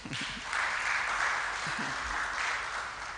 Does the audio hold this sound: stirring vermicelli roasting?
no